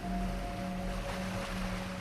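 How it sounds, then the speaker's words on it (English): Ocean waves crashing outside a bedroom window at night, a steady broadband wash of surf with a low rumble and constant hiss, no voices. "all I could focus on was the sound of the waves outside of my window"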